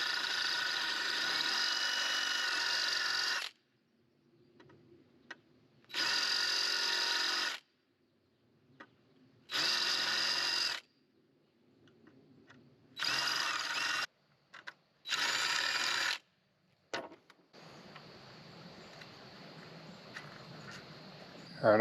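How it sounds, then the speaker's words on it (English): A power drill with a 5/16 bit bores out a rivet on a broken RV awning slider arm, whining loudly in five bursts of a couple of seconds each, separated by quiet pauses, followed by softer handling noise. "First thing is to drill out this rivet. I'm using a 5/16 to drill it."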